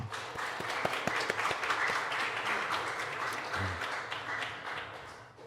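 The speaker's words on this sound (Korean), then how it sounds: "같이 함께 박수 한번 하시죠." A Korean church congregation applauds the Hosanna choir with a full, steady round of clapping that holds for several seconds and softens slightly toward the end.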